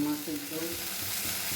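Bitter gourd frying in a pan while being stirred, a steady close sizzle with scraping stirring noises and no talk.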